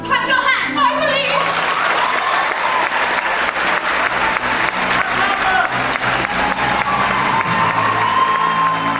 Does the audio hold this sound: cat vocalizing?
no